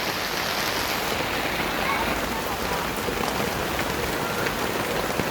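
Heavy rain pours down steadily on surfaces while children play outside, a dense, even hiss with faint voices mixed underneath.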